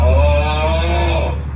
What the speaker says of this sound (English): Have you ever wanted a custom Tesla lock sound like this one?